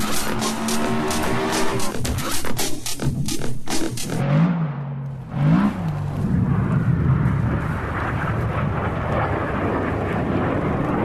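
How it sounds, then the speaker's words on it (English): Red Arrows RAF display team jets pass overhead on race day at the British Grand Prix circuit, with a loud roaring jet sweep whose pitch drops as the aircraft go by, then a sustained broad rumble fading into distance. "That is the sound of the RAF display team."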